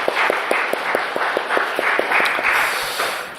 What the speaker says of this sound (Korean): 주님께 영광의 박수를 돌립시다.